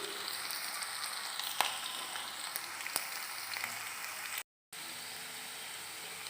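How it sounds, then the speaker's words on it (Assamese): Chopped potatoes frying in oil in a pan for an Assamese pasta dish, a steady close sizzle and crackle with a few sharp pops and a brief silent gap. "এনেকৈ ভাজি ল'ম"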